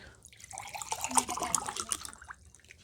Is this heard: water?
yes